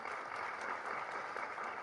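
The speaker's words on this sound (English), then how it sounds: "Can we give a round of applause to our earthling?" Audience at an astronaut's talk applauding a volunteer, a short burst of faint, distant clapping with no voices.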